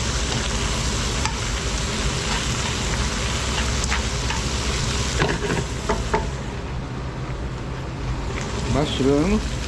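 Cabbage and bacon stir-fry in a pan over a high flame, giving a steady, loud sizzle throughout with occasional scraping and tossing clicks. A voice speaks briefly near the end.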